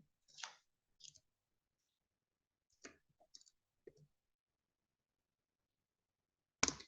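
A few sparse keyboard key clicks in very quiet surroundings, scattered single taps and short bursts with long silent gaps.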